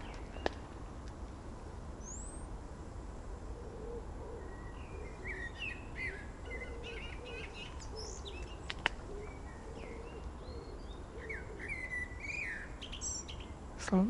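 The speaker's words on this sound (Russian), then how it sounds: "Словно птичка поет." Birds in a botanical garden give scattered, faint chirps and short song phrases over a steady outdoor hiss.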